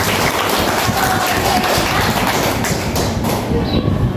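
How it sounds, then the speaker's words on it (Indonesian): A classroom audience claps together, a dense continuous patter of applause with some thumping, loud and close throughout. "oke, tepuk tangan buat kita."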